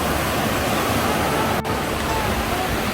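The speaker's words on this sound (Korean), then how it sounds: "Wow, the sound of water is good." Mountain stream on a hiking trail at Dobongsan, a loud, steady broadband rush of flowing water filling the scene, close by and unbroken apart from a brief dip.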